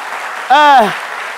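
A live television studio audience applauds a guest. It is a short, loud burst with a rising and falling vocal whoop or cheer riding on top of the clapping.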